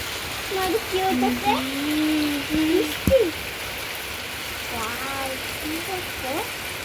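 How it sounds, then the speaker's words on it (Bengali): Rain falls in Bogura, Bangladesh, a steady wash of hiss that runs the whole time while voices chatter and call over it. "বেশ কয়েক মাস পরে কিন্তু বৃষ্টির শব্দটা উপভোগ করলাম"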